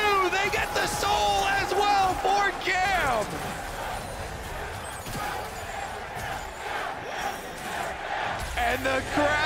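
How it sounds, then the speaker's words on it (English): A large New York crowd roars and cheers in an arena at a League of Legends World Championship match, sustained and loud, with an excited commentator talking over it and rising shouts throughout. "And the crowd erupts. Listen to New York cheer."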